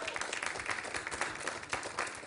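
An audience applauds acrobats at a French circus-style show, a faint, distant patter of clapping that runs evenly for a couple of seconds.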